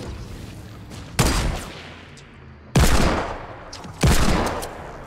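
Gunfire in the Fortnite battle royale video game: three loud, separate bursts of shots, each decaying into a rumbling tail, with quieter background game sound between them and no speech.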